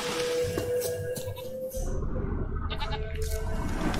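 Goat bleats in The Witcher 3 video game, heard as a few short nasal calls over a loud, dense game soundscape with steady ambient background and no talk.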